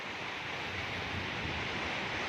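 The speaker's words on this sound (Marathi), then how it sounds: "पहा किती प्रेशरनं जातं पुढं हे असं पाणी आहे" Water rushes at high pressure over rock in a village stream swollen by heavy rain, a dense, continuous roar that fills the short stretch evenly from start to finish.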